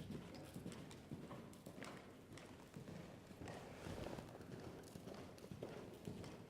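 A horse being ridden in a training session moves with steady, continuous clip-clop hoofbeats, close and fairly loud, rhythmic throughout with no talk over them.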